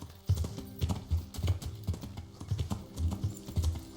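Horse hooves clip-clopping at a steady walking rhythm in the video game Kingdom Come Deliverance, with even, moderately close thuds and faint clicks in the background.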